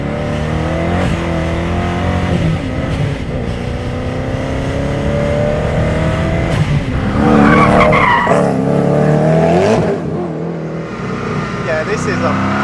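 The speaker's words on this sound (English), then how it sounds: "there's so much noise and so much drama going on in this car" Supercar engine roaring loud and close on a small track, revving up and down with tyres skidding and squealing through the middle, a person talking over the din.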